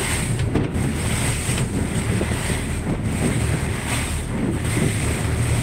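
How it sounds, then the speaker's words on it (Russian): Strong squall gusts roar across the microphone over the steady wash of choppy, metre-high waves on an estuary, loud and continuous with no voices. "И вот налетел шквалистый ветер."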